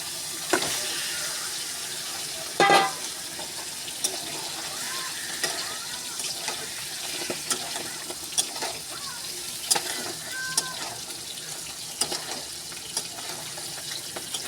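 Chicken pieces sizzling and frying in a pan of spice paste while being stirred, a steady crackle under scattered scrapes and clinks of a spoon against the pan, with one louder clatter near the start.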